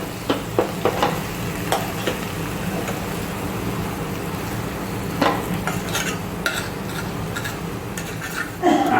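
Mashed potatoes stirred and frying in a pan for a Kathiyawadi dosa vada, steady sizzle with scattered scraping and clinking of a spoon against the pan, close and continuous.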